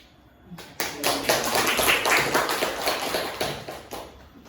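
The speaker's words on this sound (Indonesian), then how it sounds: "kita berikan aplaus luar biasa" An audience at a formal meeting breaks into applause, a sudden swell of many hands clapping close and loud that peaks, then tapers off into scattered claps.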